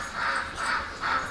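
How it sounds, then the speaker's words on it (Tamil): A peacock gives three loud, harsh calls in quick succession on a cold morning, each a drawn-out nasal cry spaced about half a second apart, with nothing else in the background. "இது மயில் கத்துது."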